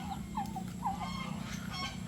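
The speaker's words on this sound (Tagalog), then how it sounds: "yung mga pabo natin dumami na" A growing flock of farm turkeys calls in a run of short, nasal honking notes at close range, with steady low yard noise beneath and no talking.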